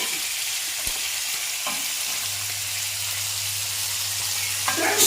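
Sala fish sizzles and fries steadily in a hot pan, a loud continuous crackling hiss with a low hum joining partway through and no voices.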